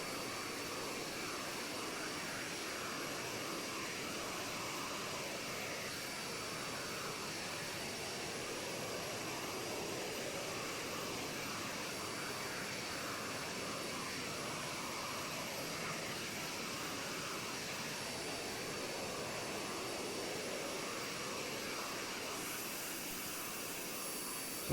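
A T-45 Goshawk jet engine in Microsoft Flight Simulator 2020 roars with a steady broadband hiss and whine during the takeoff roll, continuous and unbroken throughout, with no talking.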